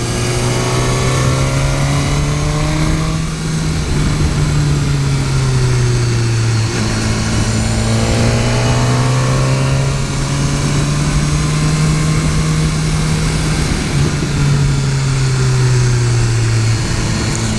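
A 2015 BMW S1000R motorcycle engine pulls hard out of corners, its loud steady drone rising and falling in pitch through repeated accelerations and brief easing, heard close from the rider's position with constant wind.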